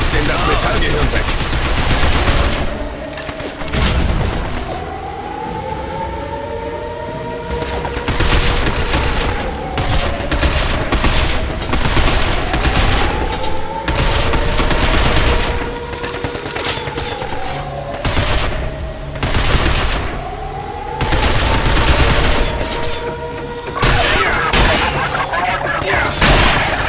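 Rapid gunfire bursts and repeated shots in the video game Binary Domain as a squad fires on robots, loud and near, with sweeping mechanical whines and clanks between volleys and occasional voices mixed in.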